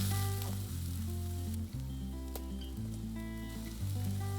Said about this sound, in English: Skewer number 1, metal, goes right down onto the hottest part of my fire.